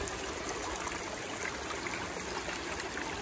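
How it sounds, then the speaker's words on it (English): Negative edge waterfall in a garden water feature with gravel, a steady broadband rush of flowing and trickling water, continuous and even, with no voices. "So I could say the negative edge waterfall is done"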